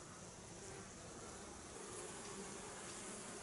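Dense, steady drone of many honeybees crowding a small nucleus hive entrance fitted with an Asian hornet guard, foragers bringing in pollen, a continuous close hum with no talk.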